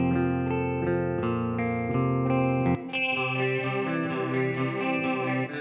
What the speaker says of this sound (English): So nice chorusy guitar there with some reverb.